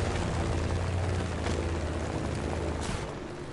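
Steady, loud roar of an airplane engine in the video game Just Cause 3, a continuous droning rumble with wind noise during a fast descent, fading slightly at the end.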